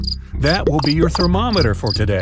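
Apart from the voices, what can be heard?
crickets chirping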